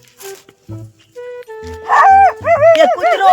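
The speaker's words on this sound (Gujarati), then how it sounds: "એ કૂતરો" A dog near a hut yips, whimpers and barks in a rising, howl-like series of calls, loud and close, growing more insistent toward the end.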